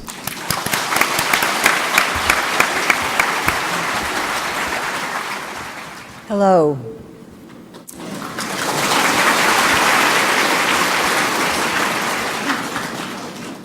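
An audience claps warmly to welcome a speaker to the stage, loud sustained clapping that stops briefly as a rising tone and a short spoken greeting come through, then the clapping swells again and continues.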